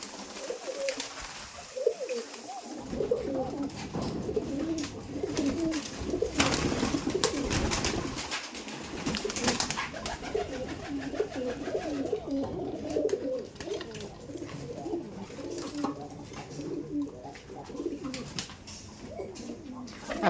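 Kaldom pigeons coo continuously in a loft, many birds layered in a dense, close chorus of throaty warbling with wing flutters and rustles mixed in, steady throughout.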